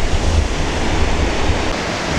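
Ocean surf rolling in at Huntington Beach, a dense continuous roar of breaking waves mixed with wind buffeting the microphone, loud and steady throughout with no voices.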